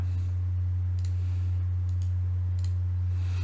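Sparse computer mouse clicks while selecting edges and faces in SketchUp, a few isolated sharp clicks spaced about half a second apart over a steady low hum.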